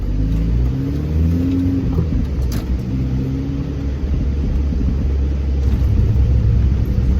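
Mini Cooper S with a suspected fault driving along, its engine rumbling steadily and close with a droning mid-pitched tone and some revving swells, continuous with no talk.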